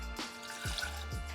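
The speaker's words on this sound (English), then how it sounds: "let's start off by pouring your water into your saucepan." Water poured into a saucepan for a low-carb teriyaki sauce: a brief, steady, close splashing stream with a few gurgles, no voices.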